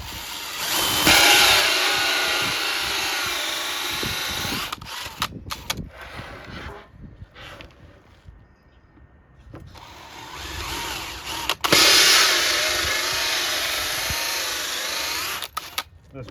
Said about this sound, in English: I only want to drill through halfway, and then we'll flip it over and drill the other half.